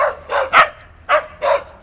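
Small dogs playing together, letting out short high yips and barks in quick bursts of two or three, close and loud, with brief pauses between the bursts.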